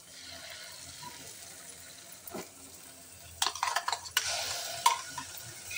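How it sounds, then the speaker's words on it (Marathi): Chopped roselle (ambadi) leaves are tipped into a pan, followed by soft sizzling and a few sharp scraping and stirring sounds, close by and fairly faint, with no talking. "आता याच्यामध्ये ही बारीक केलेली आंबाड्याची भाजी टाकून देऊया"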